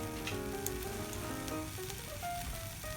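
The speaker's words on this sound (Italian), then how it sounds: "adesso che il guanciale comincia a sfrigolare" Guanciale sizzles in a hot pan with a steady, close crackling fry and no talk over it.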